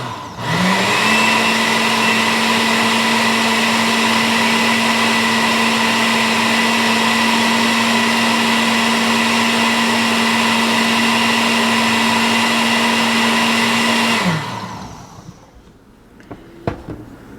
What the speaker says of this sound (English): cover my blender